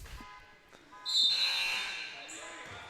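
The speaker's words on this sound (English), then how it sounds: "somebody's car alarm is going off" A car alarm goes off outside a varsity high school basketball game, a shrill steady electronic tone rising about a second in and holding to the end over faint gym and crowd noise.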